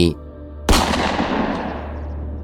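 A sharp gunshot cracks loud and close in a staged audio drama, one sudden blast that rings out and decays slowly after a brief quiet musical lead-in.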